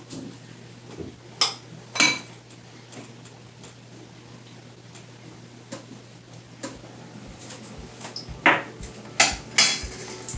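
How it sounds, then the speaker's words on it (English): Sour cream stirred into cake batter in a mixing bowl with a spoon or whisk, quiet scraping punctuated by a few sharp clinks and taps against the bowl, sparse and irregular over a steady low hum. "And then I'm going to mix that in nice and good"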